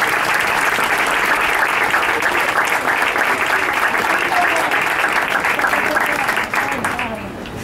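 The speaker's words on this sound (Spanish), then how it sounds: "me gustaría que den un aplauso" Steady audience applause at the opening of a new wine shop in Seville, dense continuous clapping from a gathered crowd that holds evenly before thinning out in the final second.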